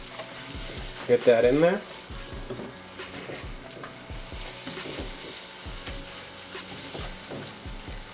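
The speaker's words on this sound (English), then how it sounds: "then I'm going to deglaze with some butter." Butter hits hot caramel in a pot and gives off a burst of loud sizzling and bubbling up close, which then settles into a low, steady simmer with light clicks and bubbles over the lowest heat setting.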